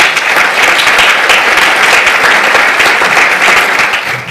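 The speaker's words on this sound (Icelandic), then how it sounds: "Gefið Sigrúnu gott klapp." Sustained audience applause at a university lecture on trauma-informed care, loud and dense throughout with steady clapping from many hands and no break.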